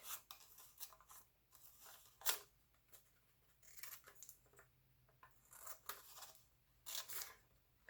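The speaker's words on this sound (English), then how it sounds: "I'm just going to use my scissors and cut some of those details" Soft snipping and paper rustling in a quiet room, several separate cuts spaced irregularly, fairly close.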